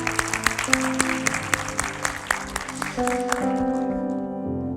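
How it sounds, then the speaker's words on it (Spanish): A church congregation claps during a sermon, a steady dense patter of many hands with sharp individual claps, while sustained organ or keyboard tones swell underneath and carry on to the end. "Vamos a darle un fuerte aplauso a aquellos que votaron por las fuerzas del mal."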